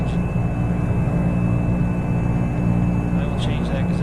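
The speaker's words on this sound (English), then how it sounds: "It is a very noisy engine." Simulated Cessna 208 Caravan engine in X-Plane 10, a loud steady turboprop drone with a constant whining tone running unbroken throughout.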